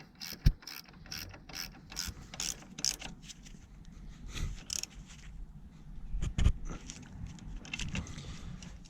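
A ratchet tightens an M8 bolt with a 13 mm head on the AC hose bracket of a car during an air-conditioning compressor replacement, giving scattered clicking bursts and metallic taps at close range with no talk.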